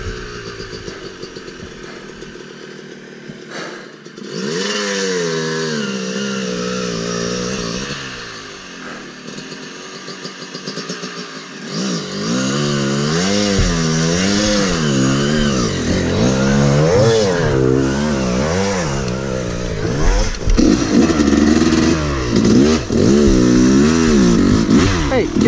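Enduro motorcycle ridden in second gear along a muddy trail, its engine droning and revving in rising and falling surges for most of the run, close and loud with some faint talk.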